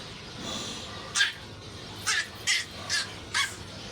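A bird gives five sharp, harsh calls, one alone then four in quick succession, fairly close against a quiet background.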